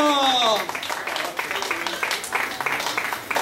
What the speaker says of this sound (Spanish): ¡Un aplauso fuerte para el muchacho!